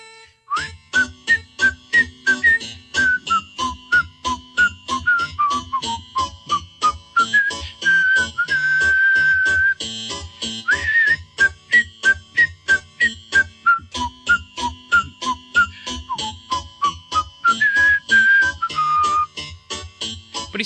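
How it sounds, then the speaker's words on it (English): A clear, close whistled melody carries on over a steady rhythmic backing beat, with long held notes between quicker phrases. "He was whistling a tune."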